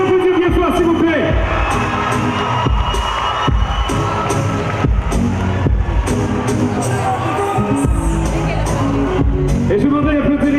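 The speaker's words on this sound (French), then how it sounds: "Et je voudrais l'applaudir bien fort, s'il vous plaît." An audience at a Miss Guadeloupe pageant event claps and cheers loudly and steadily, with whoops, shouts and crowd hubbub filling the whole stretch.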